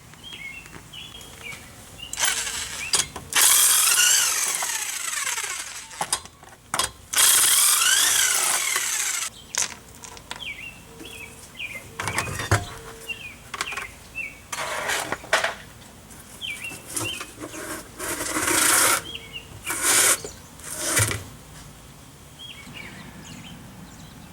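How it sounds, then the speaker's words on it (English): Tools work the front wheel of a 1995 Pontiac Grand Am in short, loud, rattling bursts separated by pauses, while birds chirp faintly outdoors in the background. "Let's get that front wheel off."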